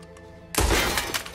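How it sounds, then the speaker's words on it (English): A gunshot in the Red Dead Redemption 2 video game blasts through shackle chains, a sudden loud crack and metallic shatter after a quiet musical bed, ringing on briefly. "Please shoot through these shackles."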